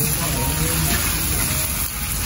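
Spice paste sizzling steadily in a hot pan, with ginger, lemongrass, bay leaf and lime leaf, for sweet-spicy sweet potato; a loud, continuous frying hiss close by.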